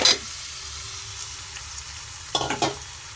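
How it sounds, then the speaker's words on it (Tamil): Washed chicken pieces dropped into a hot pan with turmeric, a brief loud sizzle at the start, then a low steady frying hiss, followed by a couple of sharp stirring scrapes and spatters near the end. "பிறகு கழுவி வைத்த சிக்கனை அதில் சேர்க்கவும்."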